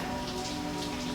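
Light, cold drizzle falls as a steady, dense hiss of rain on surfaces, even and unbroken throughout with no voices.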